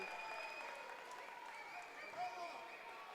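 A basketball crowd at a girls' varsity game in Pittsburgh reacts to a foul call with sustained applause and murmuring, an even wash of noise from a full gym.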